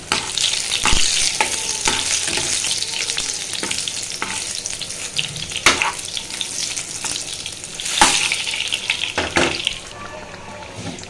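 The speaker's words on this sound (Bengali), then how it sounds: "এদিকে আমি পাত্রে তিন দুই টেবিল চামচ তেল দিলাম তারপর আমি তিন চারটা রসুনের কোষ থেতলা করে দিয়ে দিলাম" Crushed garlic cloves frying in a few spoonfuls of oil in a pan, a steady close sizzle broken by scraping stirs and sharper spatters.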